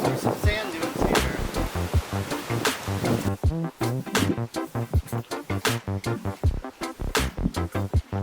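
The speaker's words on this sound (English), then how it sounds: "It's so windy." Strong wind buffets the microphone at a coastal nature reserve with sand dunes and jungle-like trails near the beach. The rumbling gusts are loud and continuous, with surf-like surges, and voices talk faintly in places.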